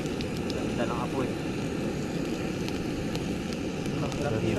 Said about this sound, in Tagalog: Ganda ng apoy.